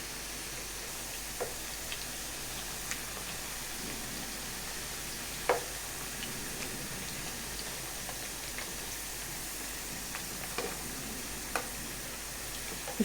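Homemade potato chips frying in oil with a soft, continuous sizzle. Scattered pops and crackles punctuate it at irregular intervals, fairly quiet throughout.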